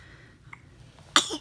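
A single short, sharp sneeze from a baby bursts out after near silence, preceded by a faint little breath sound.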